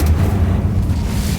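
An Incendio fire spell from Hogwarts Legacy erupts as a loud, short, low roaring burst that fades slightly within about a second.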